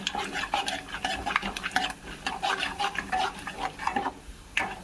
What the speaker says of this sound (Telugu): ఆవాలు, ఇదిగండి జీలకర్ర బాగా మంచిగా వాటిని కొంచెం కలర్ వచ్చేదాకా వేయించుకుందాం.